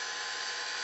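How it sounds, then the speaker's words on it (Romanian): A power drill whines steadily as it bores a hole while a small basket is being made, loud and continuous with no pauses. "Găurit perfect."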